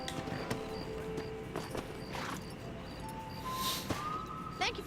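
A horse named Black Beauty walks in the Red Dead Redemption video game, its hooves making a rhythmic clip-clop over an ambient outdoor bed with faint whistling tones, moderately close and without speech.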